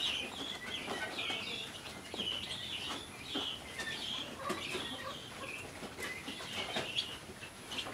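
Chickens cluck and squawk nearby in a busy, irregular chorus, with occasional wing flaps and no talking.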